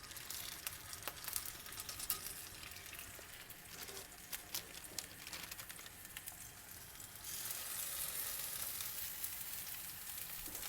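Cajun salmon burger patties sizzle in hot oil in a pan over medium-high heat, a steady crackling hiss with fine popping spatters that grows slightly fuller toward the end.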